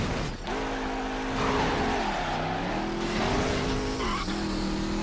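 A hot-rodded car engine fitted with an air blower, racing in the video game Midnight Club 3, roars steadily and loud with whining, shifting pitch and tire squeal over about five seconds.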